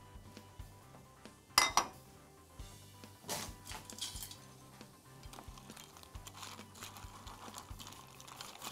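A metal utensil stirs syrup into a pot while making qatayef and kunafa, giving soft, irregular clinks and scrapes with a few sharper knocks, close but quiet and heard alone.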